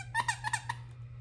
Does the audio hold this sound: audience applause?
no